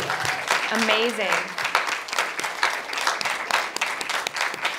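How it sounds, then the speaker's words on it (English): Audience applauding the cast of a short film at a live Q&A, sustained, dense clapping from a crowd with a voice briefly speaking over the start. "please, like, everyone, just give a round of applause for this cast."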